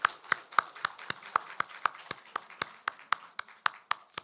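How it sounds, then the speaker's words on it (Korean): Clapping from a church congregation at a Sunday service, a steady rhythmic beat of sharp, evenly spaced claps at moderate distance, sounding like a small group clapping in unison rather than a full roar. "우리 다시금 우리 감사의 박수를 한번 했으면 좋겠습니다"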